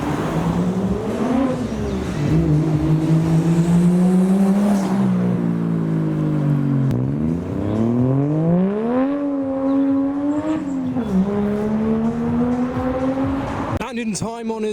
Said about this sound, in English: can hear a white chaser rolling out